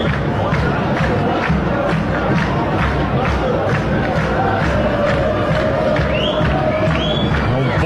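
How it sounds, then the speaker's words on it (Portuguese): Organized supporters chanting at Estádio do Vale during a Novo Hamburgo versus Internacional football match: a dense, loud crowd roar with rhythmic chant pulses and shouting, sustained throughout. "Esse é o som do Estádio do Vale."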